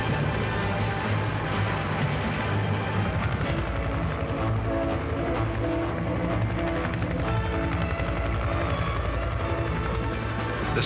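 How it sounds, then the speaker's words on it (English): A scout helicopter and attack helicopters fly over the operational area. Their rotors and engines make a steady, dense drone at moderate distance that runs throughout without pause. "The Scout helicopter precedes the attack helicopters into the operational area, searching for the enemy tanks."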